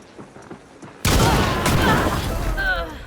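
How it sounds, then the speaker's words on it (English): Loud gunfire in the multiplayer shooter Hunt: Showdown bursts in after a second of quiet, a heavy booming blast followed by sustained rumbling echo and a couple of later reports, all near and dominating. "they shoot me twice"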